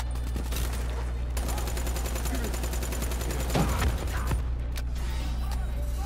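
Rapid automatic gunfire in the Call of Duty veteran campaign, bursts of shots over a loud game soundscape with mechanical clatter, fairly close and continuous.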